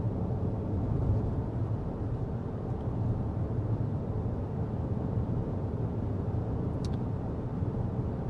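Inside a 2023 Honda Pilot or 2023 Nissan Pathfinder at 55 mph, continuous low road and tire roar fills the cabin evenly, unbroken and without voices.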